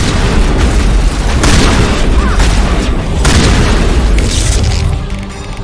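Shotgun fire in the video game Mass Effect, heard as loud, booming blasts at intervals of about one to two seconds that fill the sound, fading toward the end.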